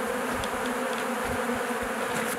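Honeybees buzzing around mountain hives in Penjwen, a steady, close, unbroken drone of many insects with no voices.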